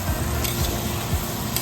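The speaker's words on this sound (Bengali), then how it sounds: "আমাদের কুট্টুদা মাংস কষাচ্ছে।" Meat being stir-fried with spices in a pan, a steady close sizzle with occasional spatula scrapes and stirring thumps, no talking.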